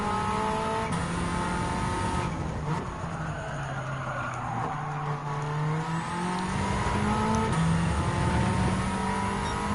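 Alpine A110 2017 race car engine in Gran Turismo 7 during a European Sunday Cup race, revving steadily through shifts with rising and falling pitch, brief tire squeal, continuous and loud with no talk.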